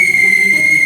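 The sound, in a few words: whistle being blown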